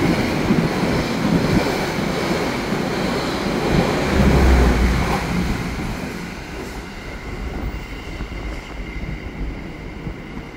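The Gaya Baru Malam Selatan passenger train runs at speed on an Indonesian line, heard as a loud, continuous rumble and rattle of wheels and carriages that swells midway and then eases slightly, with no voices.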